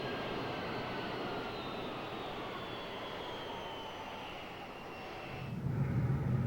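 A Boeing 757 airliner rolls down a runway through standing water up to 1.5 inches deep, a continuous loud roar of engines and spray that holds steady before a deeper rumble swells near the end.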